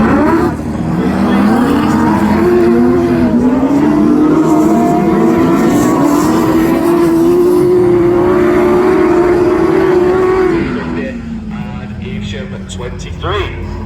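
Class 10 autograss racing cars battle for third place at the men's nationals, with loud, sustained engine drone and shifting revs rising and falling before fading after about ten seconds. A commentator talks over the racing.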